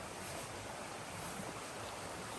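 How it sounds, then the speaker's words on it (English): Creek water flowing steadily in a county park woodland, a continuous broadband rush with no breaks, fairly close and alone without voices. "We're coming across a creek"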